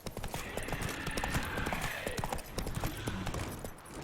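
Steady clip-clop of the horse Roach's hooves trotting in The Witcher 3: Wild Hunt, a continuous even rhythm held at moderate volume throughout.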